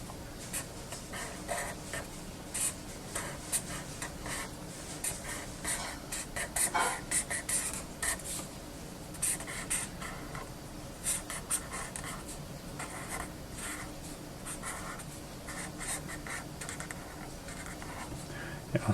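A hand traces graffiti letter outlines on paper with a pen or marker, producing steady close scratching and tapping strokes in an irregular rhythm, faint talk now and then in the background.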